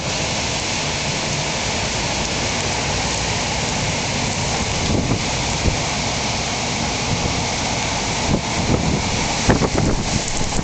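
Strong wind gust roars into the microphone as a broad, constant rush near a crane with a swinging suspended load, with a few harder buffets and knocks toward the end; no voices.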